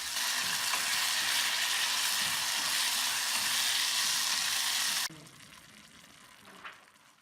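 Steady broadband sizzling of fried chicken and green chillies frying in a pan for about five seconds, then it drops sharply to quieter crackling with a faint clink.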